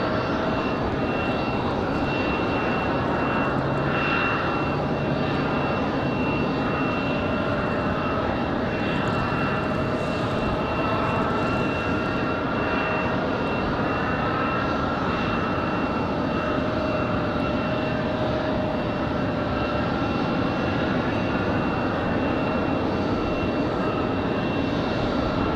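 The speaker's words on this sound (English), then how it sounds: "American Airlines 557 coming in from Chicago O'Hare. This one going to be an A319." An American Airlines Airbus A319 arriving from Chicago O'Hare at Raleigh-Durham on a windy day, producing a steady, loud jet engine rumble with a faint whine, sustained and unbroken as it approaches.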